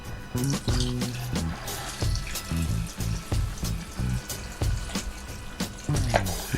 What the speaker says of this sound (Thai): เมื่อเติมน้ำเปล่าลงไปแล้วนะครับ